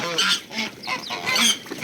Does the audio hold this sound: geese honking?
yes